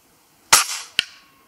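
A powerful PCP air rifle fires outdoors: one sharp, loud crack followed by a brief decaying tail, then a second shorter snap about half a second later, with no talk around them.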